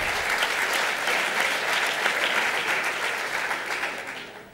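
Audience at an eloquence contest final breaks into sustained applause after a joke, a full, steady crowd clapping that fills the room and fades gently at the close.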